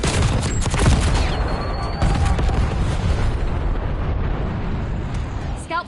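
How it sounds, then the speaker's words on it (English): Loud, continuous barrage of explosions and crackling fire from a napalm strike in Black Ops 6 Zombies, with dense rumbling bursts layered over one another for the whole stretch. "Enemy napalm strike incoming."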